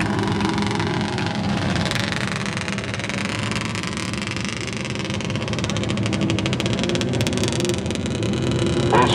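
Restrictor division race cars run together on a local oval track, a dense, steady engine drone that holds throughout at fairly constant loudness.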